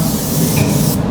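A steady, loud hiss of a spray gun blasting Mopar undercoating onto a vehicle, continuous and even for about a second.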